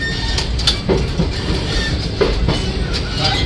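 The Black Diamond Express rolls out of Dhanbad Junction from platform 2, its carriages rumbling steadily with soft rhythmic wheel clicks and a few brief hissing accents, heard from on board.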